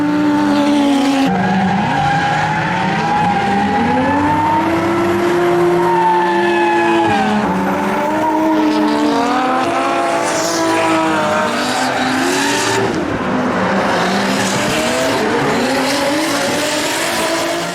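A loud Toyota Mark II JZX100 turbo straight-six engine wails up and down through the revs while tires squeal continuously, a close and sustained drifting run with rising and falling pitch.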